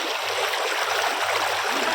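Cold stream water rushes and burbles in a dense, even flow, close and fairly loud throughout, with no voices over it.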